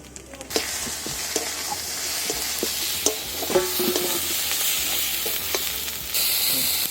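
Ginger and garlic frying with chilli, turmeric and cumin powders for a pomfret curry, a constant close sizzle with frequent spatula stirs and scrapes against the pan, no voices.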